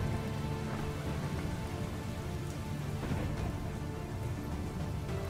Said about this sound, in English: It could only mean one thing. It was about to rain.